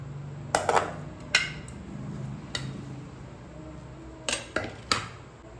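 Sautéed onion and green chilli being stirred into kuzhi paniyaram batter, a spoon clinking against the bowl in a few sharp knocks separated by pauses, close up with a soft background murmur.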